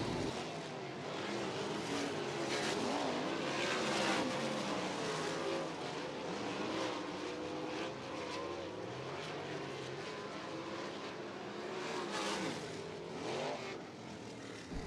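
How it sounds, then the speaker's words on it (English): USAC national sprint cars circle a dirt speedway during hot laps at Butler Speedway, a dense, continuous roar of several engines heard from a distance with swelling and fading passes, fairly faint overall. "Dirt Draft Hot Lap session number 3 underway"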